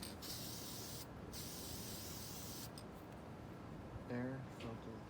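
Aerosol air filter cleaner sprayed onto the air filter of a 2015 Honda CRF250R dirt bike, a close, steady hiss in long bursts with brief pauses between them.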